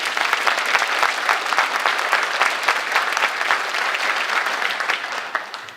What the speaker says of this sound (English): So one more round of applause for the Citizen Academy.